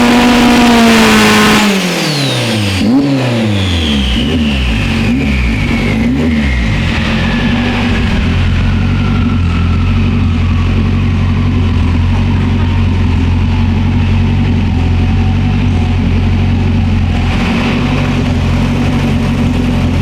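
An all-wheel-drive, five-lug Honda Civic race car engine revs hard and then drops, its pitch sweeping down before it settles into a loud, steady rumbling idle close by.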